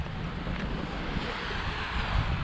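Sea waves at Kawit Island wash in a steady, moderately loud broadband rush mixed with wind noise, with no voices heard.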